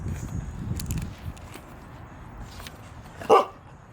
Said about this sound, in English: Just want to film the dog.